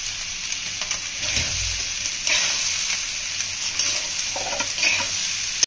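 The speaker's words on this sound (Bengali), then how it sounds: "চালটা নাড়তে নাড়তে দেখবেন পটপট করে আওয়াজ হবে" Rice and chana dal frying in a pot with spices while being stirred, a steady close sizzle with scraping stir strokes and occasional soft crackles throughout, no voices.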